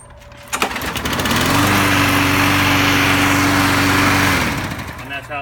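A small gasoline lawn mower engine cranks and catches after priming, then runs at a steady loud drone for several seconds before cutting off, with a brief voice at the end.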